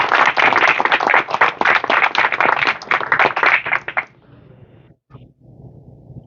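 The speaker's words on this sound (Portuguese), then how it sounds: "Gostaria também de pedir uma salva de palmas ao presidente da Academia de Letras de Visconde do Rio Branco" An audience at an academy induction ceremony in Miraí gives the academy president a round of applause. The clapping is loud, close and busy for about four seconds, then stops abruptly and leaves quiet room noise.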